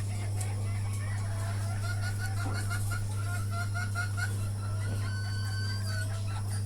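Caged desi hens and roosters in a small shed, clucking in quick repeated bursts with a drawn-out crow near the end, over a constant low electrical hum, fairly close.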